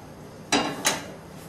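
Two sharp metallic clanks about a third of a second apart, a saucepan being set down and knocked, over a quiet background.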